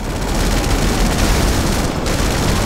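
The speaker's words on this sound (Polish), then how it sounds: "działko nie strzela już tak szybko jak wcześniej" An aircraft cannon fires in GTA Online, a loud continuous burst of rapid gunfire with a dense, unbroken rattle lasting the whole stretch.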